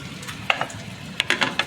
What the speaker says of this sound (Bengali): আর মাছ ভাজা হচ্ছে